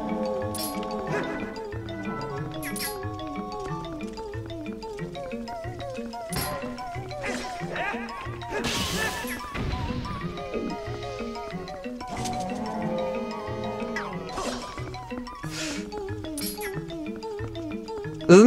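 Dense orchestral boss fight music from the video game Legend of Zelda: Twilight Princess plays continuously throughout at a steady moderate level.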